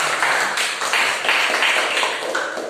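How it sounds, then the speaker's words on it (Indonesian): A small classroom group of about eight children claps for the first-place winner of a quiz. The applause comes as brisk, close, bright rattling bursts lasting a few seconds, with no talking. "Juara pertama Triandayani, tepuk tangan."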